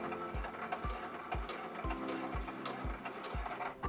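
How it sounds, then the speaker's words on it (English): A sewing machine stitches reinforcement into a fabric ice cream-shaped zipper pouch, its needle thumping in a steady, even rhythm of close, loud strokes, about two per second, with no talking. "I'm also going to reinforce this spot with some extra stitches"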